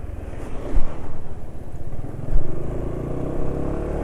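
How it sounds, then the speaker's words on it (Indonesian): A motorcycle engine running rough idles with an uneven, rough chugging beat, close by and steady, with a couple of louder surges and no talking. "Suara mesin juga sudah kasar nih."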